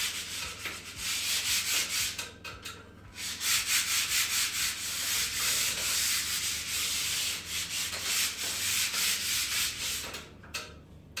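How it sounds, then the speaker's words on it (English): Rhythmic rasping strokes of sanding and scraping peeling, flaky paint from a surface, repeated in bursts with brief pauses, close and fairly loud. "sanding it and scraping it"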